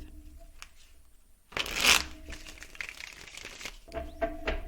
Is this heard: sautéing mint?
no